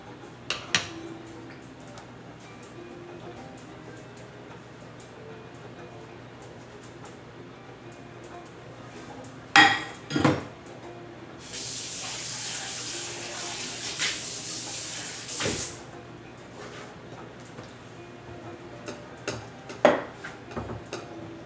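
Vegetable coconut curry being plated, with scattered clinks of bowls and cutlery and scraping at close range, a burst of running water midway, and occasional quiet voices.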